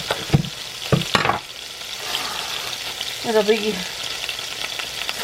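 Several frozen Costco hamburger patties sizzle together in a crowded pan, a steady close hiss with brief louder crackles near the start and a short spoken phrase over it.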